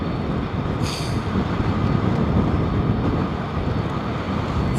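Fighter jets taking off in formation at RAF Lakenheath, a loud continuous roar of engines filling the air without letup, broad and rumbling with a brief higher whine near the start.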